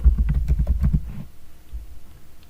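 Typing on a computer keyboard, a quick run of close, distinct key clicks for about a second, then quiet room tone.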